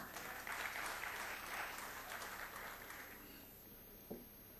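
An audience at a national budget speech in South Africa applauds the provincial MECs, a faint, distant patter of clapping that swells early and then thins out, ending with a single louder knock.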